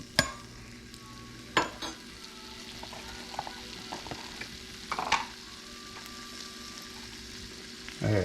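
Sausage sizzles and fries in a hot pan, a steady crackling hiss with a few louder spits and clatters of utensils stirring, near and clear with no talking.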